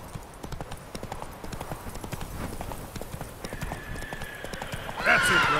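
Roach, a horse in The Witcher 3 video game, gallops with steady rhythmic clip-clop hoofbeats, then lets out a loud whinny near the end.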